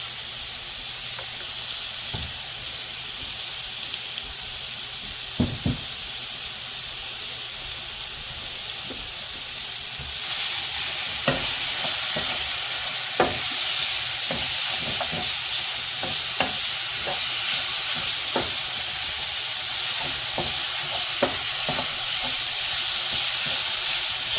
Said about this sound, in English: We'll put some more oil in this to heat this back up and add the rest of the veggies.